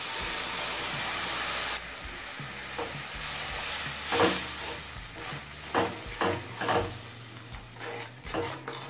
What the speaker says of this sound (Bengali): জল দিয়ে সমস্ত মশলা ভালোভাবে মিশিয়ে নিয়েছি।